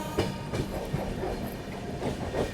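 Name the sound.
Rajdhani Express train running through Agra Cantt junction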